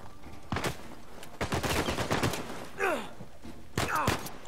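Automatic gunfire in the game Uncharted 4, rapid bursts of shots and thuds, loud and close, with a man groaning and sighing between the volleys.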